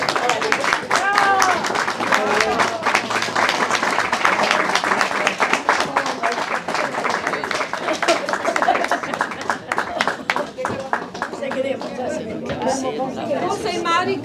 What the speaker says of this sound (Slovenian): zmer tak aplavz doživimo